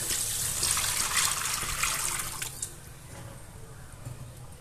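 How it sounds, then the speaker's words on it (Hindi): Water poured into fried masala in a cooking pot for a chana dal curry: a steady hissing, splashing pour that is loud at first and then eases into a softer sizzle, close up with no talk. "अब इसमें हम पानी ऐड करेंगे।"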